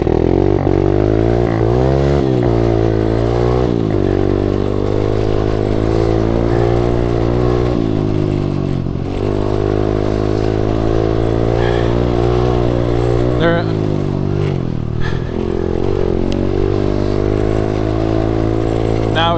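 An SSR125 pit bike motorcycle engine revs loudly and close, with repeated throttle rises and drops over a continuous buzzing idle, and a voice talks over it.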